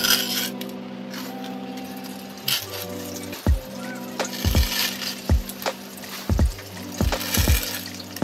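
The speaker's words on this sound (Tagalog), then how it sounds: "lagyan po muna natin ito ng grava" Gravel poured into a plant pot for a snake plant: a series of separate rattling, clinking drops of small stones, close and fairly loud, spaced irregularly over a low background hum.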